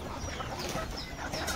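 Native gavthi hens and a rooster cluck softly at a poultry breeding farm, a short burst of faint, close clucking over low background noise.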